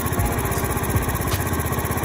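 A Ruckus-clone scooter engine idles close by after a carburetor upgrade and tune-up, with a fast, steady putter and a slight rhythmic flutter, running alone without speech.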